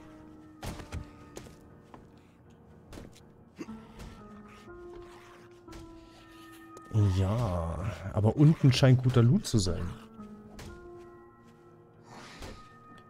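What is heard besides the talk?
zombie banging upstairs in the video game 7 Days to Die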